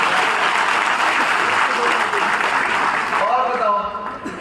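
Crowd at a party workers' meeting in Rewa applauding in a loud, dense burst of clapping that holds steady before thinning out, with a voice speaking over the tail end.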